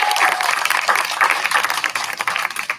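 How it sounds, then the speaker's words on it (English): An audience at a theatre marquee relighting ceremony claps in a dense, loud burst of applause that thins slightly toward the end. "Maggie and David, let's give them a big round of applause."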